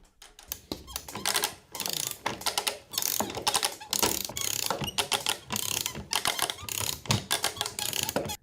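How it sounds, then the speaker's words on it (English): A chain is ratcheted up by a sprocket, producing rapid metallic clicking in repeated close bursts with short pauses, like a pawl catching gear teeth, with no voices. "the chain is then ratcheted up with this sprocket here"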